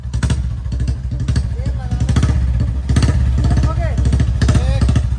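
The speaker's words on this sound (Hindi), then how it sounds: "अब बुलेट को चला रहा राघव और स्प्लेंडर को चलाएंगे हम" Two motorcycles, a 1985 Royal Enfield Bullet and a 2006 Hero Splendor, ride close by with a loud, rhythmic single-cylinder thump and clattering mechanical beat that swells slightly as they go.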